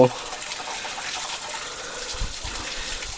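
Water gushes and rushes steadily on a forest trail heading toward a waterfall, a constant near wash of flowing water filling the whole clip, with faint voices in the background.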